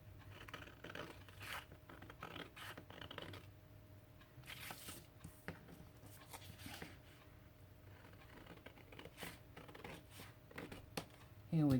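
Scissors snip through a paper wallet pattern with scattered, quiet cuts and rustling paper, close by and soft, with no talking.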